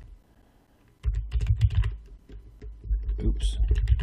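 Typing on a computer keyboard while entering a product description, a quick burst of close clicking keystrokes after a quiet opening, pausing briefly before another run of keys.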